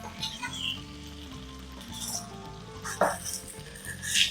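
Chicken sizzles and fries in ghee for a Mangalorean chicken ghee roast, a steady close crackle with a brief louder spatter midway and faint clinks of stirring.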